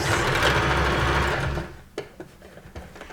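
A sewing machine stitches a lips-shaped welt pocket, running in a steady continuous whir for about a second and a half, then stopping, followed by a few soft handling clicks and taps of fabric.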